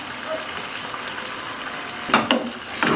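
Mutton seasoned with turmeric and salt is stirred in a pot over a steady low sizzle, with a few louder scraping strokes near the end.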